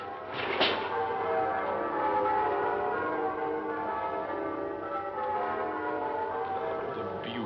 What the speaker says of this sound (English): Oh, merry, merry bells.